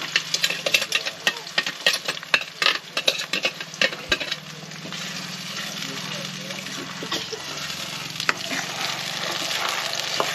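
Egg masala mix poured into a hot kadai with oil, with a loud close sizzle and frying hiss after busy stirring and scraping, while people talk over it.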